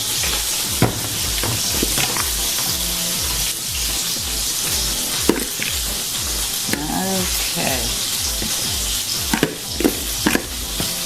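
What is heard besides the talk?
slider patties sizzling while frying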